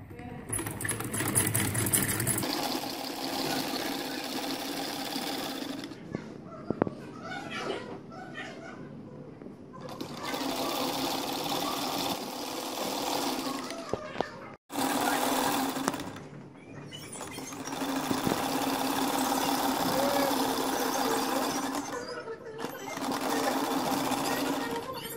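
Sewing machine stitching the hem of a shalwar, running in several long steady bursts with brief pauses between them, close and fairly loud, with faint background voices now and then.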